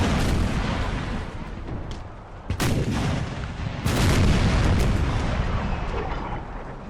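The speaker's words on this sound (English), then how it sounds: "those heavy guns are doing a number on him, though" Heavy artillery guns firing in a battle from Empire: Total War, set in the American Civil War, with loud booming blasts and rolling rumble over dense continuous battle noise, no talking.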